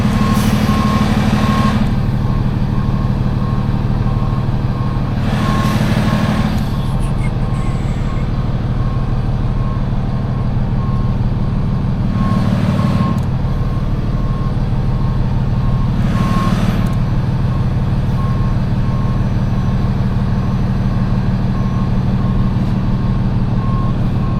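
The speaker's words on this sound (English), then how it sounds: "I always go a lot slower when I'm backing up right next to somebody dropping a car off." A truck's reversing alarm beeps steadily and loudly in a long regular series while the truck backs up, over a constant engine rumble, with short bursts of louder noise now and then.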